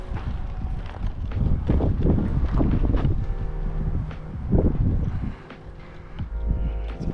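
Steady wind buffets the microphone in gusts at an abandoned mine, a broad rumbling roar that rises and falls, with a brief lull near the end.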